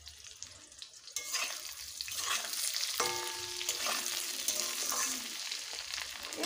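Okra frying in a pan with a few green chillies added sizzles quietly at first. The sizzle then swells into a fuller, steady spattering with spatula stirs and a brief metallic ring partway through.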